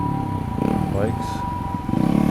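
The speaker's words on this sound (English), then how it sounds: "Bikes." Motorbikes pass along a busy Osaka street on a cold winter night, their engines rumbling and swelling briefly amid city noise, with a voice faintly audible underneath.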